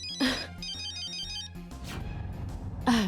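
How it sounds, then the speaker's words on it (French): A telephone rings with an incoming call, giving a repeated electronic ringtone pattern of clear, close, steady tones with brief gaps. "Lisa, c'est Abe qui appelle."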